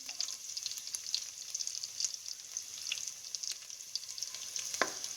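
Curry leaves fry in hot oil for a turnip curry, a faint, steady sizzle with soft crackles and one brief louder spurt near the end.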